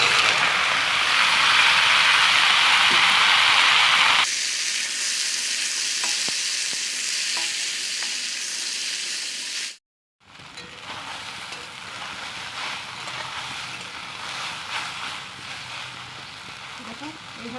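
Taro stolons fry and get stirred in hot mustard oil, a loud dense sizzle that drops to a softer crackle partway through, cuts out briefly, then resumes steady with faint stirring scrapes.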